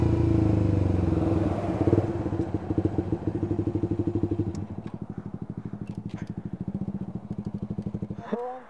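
A Suzuki GSX-R150 motorcycle engine is ridden at speed. It runs as a loud, steady drone, then falls to a fast rhythmic chugging pulse that fades toward the end, with a brief rising tone at the finish.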